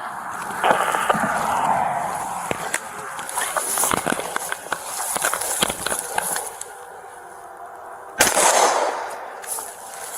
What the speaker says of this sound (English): They're inside actively shooting.